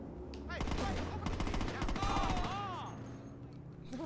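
Shotgun blasts and other gunfire in the Saints Row video game, a rapid run of sharp cracks through the first half, mixed with game noise and voices.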